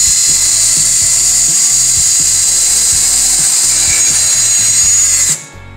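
A power drill runs loud and steady, driving screws into wood while assembling a wooden chickshaw cart. A continuous high-pitched whine holds with a chugging low rhythm beneath it, then cuts off abruptly near the end.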